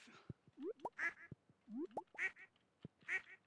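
Cartoonish duck quacks from the farm game Stardew Valley, a few repeated calls in short bursts, close and clear with no talking over them.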